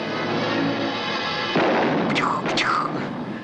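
Gunshots in a movie scene with a New York cop firing, a sharp crack midway followed by two ricochet-like whines over a constant rumbling background.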